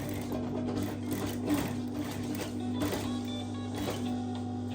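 A sewing machine stitches across a shirt sleeve cuff with a steady motor hum and fast regular needle clatter, close and continuous for the whole stretch.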